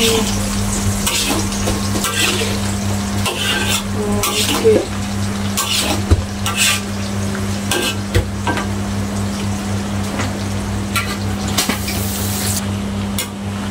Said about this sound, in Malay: Apa pula tahu ni meletup Tok Mak goreng tahu